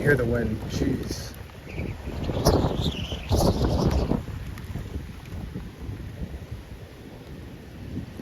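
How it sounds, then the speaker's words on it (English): Strong wind under a shelf cloud just ahead of a severe thunderstorm rushes and buffets steadily, loud and close, with people talking excitedly over it for the first half. "You can hear the wind."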